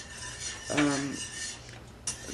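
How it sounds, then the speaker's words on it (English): A spoon scrapes and clinks against a pot while stirring white sauce off the heat, a brief metallic rub up close over a soft steady background hiss. "You want to keep stirring until the bubbles kind of stop."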